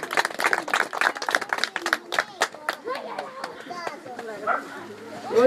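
Guests at a birthday celebration clap together in a quick, lively burst of applause that fades out, with children's voices and chatter mixed in.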